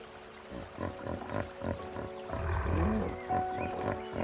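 Hippo roaring in the African wild, deep rumbling bellows that swell and pulse in a series of heavy grunting bursts, loud and close, building to a sustained throaty roar near the end with no talk.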